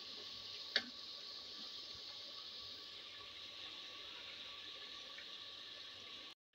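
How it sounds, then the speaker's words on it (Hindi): Water pours steadily into a clay cooking pot of nihari, a soft continuous stream with one brief knock near the start, heard alone and fairly quiet. "इसमें पानी डालना हो तो ऐसे डालते हैं मिट्टी की हांडी में ऐसे"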